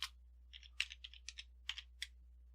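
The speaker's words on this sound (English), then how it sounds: "and I'm going to type in" Keys on a computer keyboard are tapped in about a dozen quick, light clicks with small pauses between them, close and quiet over a faint electrical hum.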